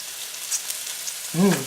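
Butter sizzling in a hot pan while a steak is basted, a steady hiss of frying with no talk, ending in a brief low clunk near the end.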